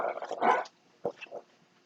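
Dog growling and grumbling nearby in a kitchen, a few short rough vocal bursts separated by quiet gaps, fairly faint overall.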